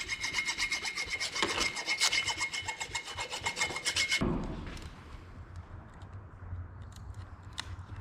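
Dried glue is scraped out of a hole with quick, rhythmic rasping strokes for about four seconds, close and fairly loud, then the scraping stops, leaving faint scattered clicks and handling noises.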